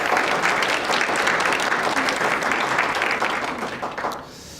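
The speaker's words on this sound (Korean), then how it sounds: "다시 한번 수고하신 우리 성가대에게 우리 박수로 우리 감사의 마음 전하겠습니다." A church congregation applauds the choir at a Sunday service, steady dense clapping filling the sanctuary for about four seconds before it quickly fades out.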